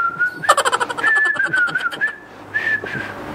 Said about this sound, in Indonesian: Misalnya apa? Bersiul.